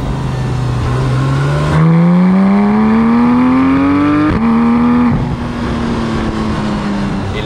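A Porsche 911 GT3 991.1 accelerates hard as its exhaust valves open. The engine note climbs steadily and jumps in loudness early on, dips briefly midway, then holds a loud, close, sustained howl.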